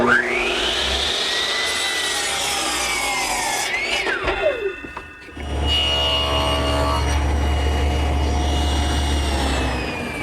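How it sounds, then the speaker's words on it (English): A hand-operated miter box saw set to 45 degrees trims the corner off a wooden blank, a close rasping cut followed by a sustained loud low-pitched power tool drone in the second half. "I'll start forming the tenon at the miter box, which I'll swing to 45 degrees and just trim off the corner"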